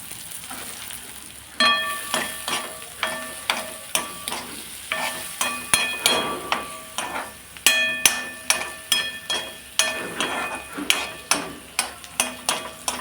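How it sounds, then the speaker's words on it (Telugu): Whole spices (cloves, cardamom, cinnamon bark and a bay leaf) fry in hot oil for bagara baingan, a continuous sizzle punctuated by rhythmic metallic scrapes of a spoon stirring the pan. "ఇది కొంచెం గోల్డెన్ బ్రౌన్ అయ్యే వరకు వేపించేసుకోవాలండి వేపించుకున్న తర్వాత ఇది వేగుతోందండి"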